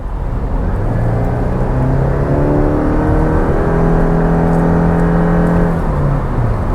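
A 2026 Subaru Crosstrek Hybrid pulls away under acceleration, its engine tone rising steadily and holding a loud, close, continuous drone for several seconds before easing off near the end.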